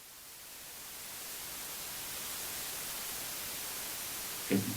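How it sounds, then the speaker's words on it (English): Steady broadband white noise used as a masking signal in an auditory demonstration, a continuous hiss holding at an even level, ending with a brief click. "So here we have a masker, which is the white noise"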